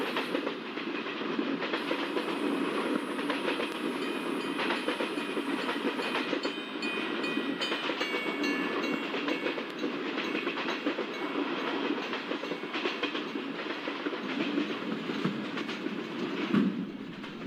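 Steady, loud rumble of Indian ICF express train coaches rolling fast over the tracks, with continuous rhythmic clatter from the wheels and no voices.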